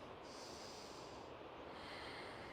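Quiet, steady breathing in and out through the nose during a yoga flow, a soft airy hiss that runs continuously and faintly with no talking.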